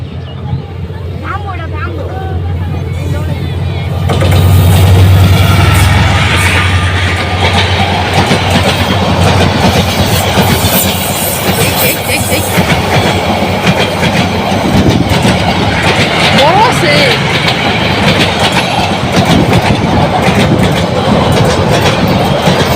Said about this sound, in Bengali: গঙ্গাসাগর ট্রেন চলে এসেছে